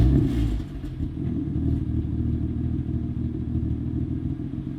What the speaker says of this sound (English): you want to hear the quietest F80 startup ever?